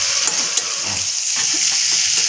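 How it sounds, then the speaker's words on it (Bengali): Chicken fries in a pan with no added water, a steady broadband sizzle and crackle running throughout at close range, with occasional soft stirring touches and no talk. "বলেই তো ভাজছি চিকেনটা"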